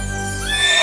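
A horse whinnies in a single loud, close neigh lasting under a second, its high tone sliding and wavering over a low steady hum.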